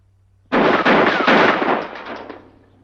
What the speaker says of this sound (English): Well, try it again and keep on firing till you hit.